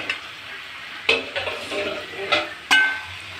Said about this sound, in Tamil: நல்லா கிளறி விடுங்க தக்காளியோட கலந்து வரட்டும்